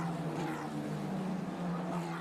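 Formula Regional race cars at the Monaco street circuit approaching the Nouvelle chicane, a sustained engine whine with shifting pitch, moderately distant, heard alone.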